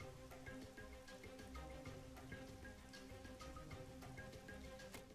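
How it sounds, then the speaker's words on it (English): Steady rain in the video game Xenoblade Chronicles X on Wii U, a dense continuous patter with scattered droplet ticks over a low rumbling game ambience, no voice present. "and of course it starts raining"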